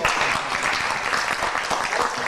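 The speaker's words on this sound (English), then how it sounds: "If you've seen one trick that you like, then you applaud." An audience at a magic show applauds, with dense, steady clapping from many hands filling the room at even loudness throughout.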